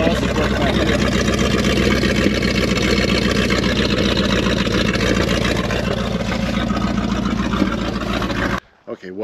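A 1979 Chevrolet C20 square-body truck with a 454 V8 runs steadily nearby, its rough, loping idle hinting at a misfiring cylinder, before cutting off abruptly near the end.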